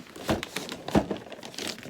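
Reused wrapping paper is crumpled and crinkled while a gift is wrapped, two sharp crackling bursts followed by softer rustling, close by, with no talking.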